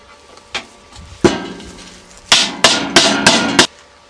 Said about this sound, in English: we take our chisel and hammer to start the hole